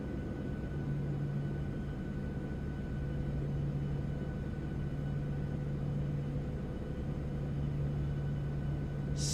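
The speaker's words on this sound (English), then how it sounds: "Sounds like we've got a good engine start." A PMDG Boeing 737-800 engine runs up in Microsoft Flight Simulator, a steady low rumble with a constant droning whine held evenly throughout, with no talking over it.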